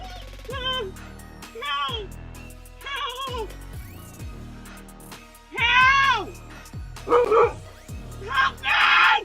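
A dog barks repeatedly at a delivery woman, with about seven loud, close, sharp barks coming in irregular bursts, the last few louder and more strained.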